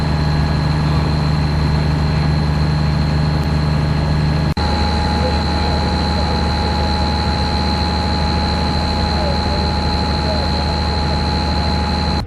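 A Thornycroft lorry engine runs steadily at an agricultural show among tractors, giving a constant, loud mechanical drone with a low steady hum and sustained tones and no pauses.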